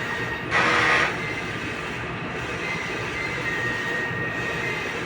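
Steady mechanical whirring and humming of a four-head sublimation printer running a head cleaning cycle, with a brief louder burst near the start and no voices.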